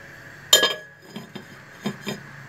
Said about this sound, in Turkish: Şimdi tenceremin kapağını kapatıyorum.